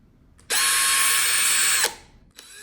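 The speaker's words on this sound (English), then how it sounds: "make sure your drill is perpendicular to the Balisong" A power drill bores out a stripped screw on an LDY balisong knife, running in one loud, steady whine for over a second, then spinning down and stopping abruptly.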